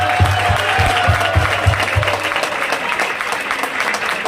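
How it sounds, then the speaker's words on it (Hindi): Applause from a seminar audience greeting newcomers, a dense steady clatter of many hands that holds at full strength throughout, with a regular low thumping beat under it during the first two seconds. "जितने नए लोग आए हैं उन लोगों के लिए बहुत ज्यादा तालियां"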